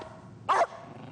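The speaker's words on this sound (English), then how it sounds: "Now make him bark again." A single dog bark, close and sharp, in the middle of an otherwise quiet, faintly humming room.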